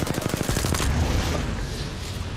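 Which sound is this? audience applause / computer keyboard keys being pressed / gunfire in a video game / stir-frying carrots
gunfire in a video game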